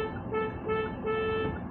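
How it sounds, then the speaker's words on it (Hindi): Horn of a 2022 Hyundai Venue N Line DCT sounds in three short honks, each a bright steady tone, close and clear against a quiet background with no talk. "ये हॉर्न है सर।"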